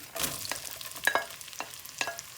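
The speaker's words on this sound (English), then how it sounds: "Then we have to fry the onion till it became little bit golden brown." Onion fries in butter with cumin seeds in a pan, a soft sizzle that is stirred now and then with a few light scrapes, close and fairly quiet.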